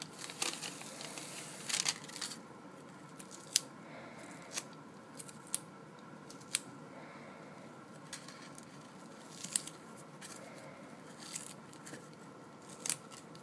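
Scissors snip adhesive-backed medical tape for a wound dressing, a series of quiet, sharp isolated cuts spaced a second or so apart over a soft background hush.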